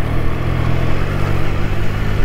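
A Triumph Trident 660 motorcycle engine works hard while climbing a steep off-road mountain road, a loud, steady, rough drone close by with no talk over it.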